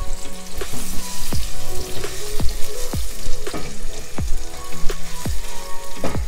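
Onions sizzle in a pan with garlic and ginger paste, a steady loud crackle of frying broken by repeated short stirring scrapes at a regular pace.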